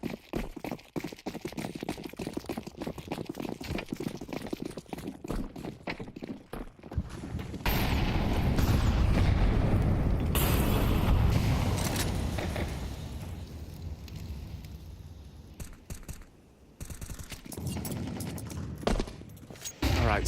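Rapid gunfire in a professional Counter-Strike match, dense bursts of automatic shots crackling over several seconds, swelling into a loud sustained barrage in the middle before thinning out into scattered shots.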